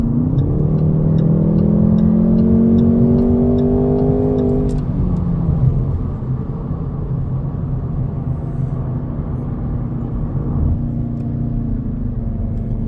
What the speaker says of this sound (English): that acceleration right there, you can see it switch gears